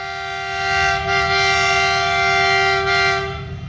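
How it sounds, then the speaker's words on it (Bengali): Agartala to Silchar Express train passing close by with its horn blaring loud and steady for the whole stretch over the rumble of the moving carriages. "আইছে ট্রেন আইছে"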